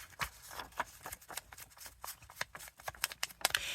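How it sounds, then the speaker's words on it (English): Paper edges being distressed for an embellished booklet, giving a run of quick, dry scraping and rasping strokes in an uneven rhythm, close up, with no talking. "distress the edges."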